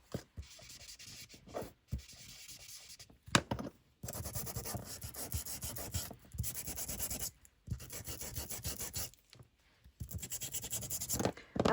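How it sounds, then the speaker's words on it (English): Sanding tool rubbed over paper clothes tags for Halloween ephemera, a close, steady scratchy abrasion in repeated bursts separated by short pauses. "Have I got the wrong sanding tool again?"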